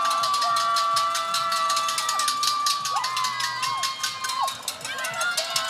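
A crowd at an amateur fight bout cheers and shouts loudly and continuously, with whoops and whistles rising over the steady roar throughout.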